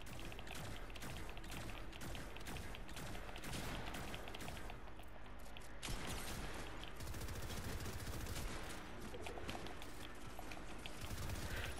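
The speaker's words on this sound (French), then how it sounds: "Il y a quelqu'un qui tire." Rapid bursts of automatic gunfire from a Fortnite match crackle almost nonstop, dense volleys rattling back to back with a sharp burst near the middle and no pauses.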